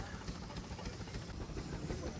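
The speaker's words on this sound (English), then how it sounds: "Behind me is a 1918 80 horsepower steam engine" A 1918 80 horsepower steam engine powering a threshing machine at a heritage festival gives off a steady, fairly faint hiss and a broad mechanical rumble that runs without a break.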